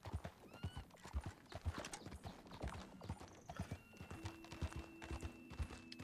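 In Red Dead Redemption 2, rhythmic hoofbeats of a horse on ice clop steadily along, with a whinny mixed in and a faint tonal hum in the background.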